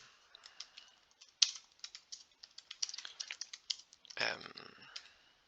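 Rapid keystrokes on a computer keyboard while text is typed into an email newsletter editor, a steady run of close, crisp clicks with a few louder taps and a brief heavier clatter near the end.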